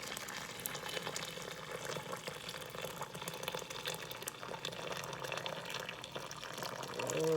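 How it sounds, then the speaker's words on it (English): Hot water poured from a tea kettle into a jar inside an electric pressure canner, a steady splashing, trickling pour running close and continuous for several seconds with no talking. "So I have my tea kettle here, my water's hot, and we're going to pour that into about 1/4 way of the jar."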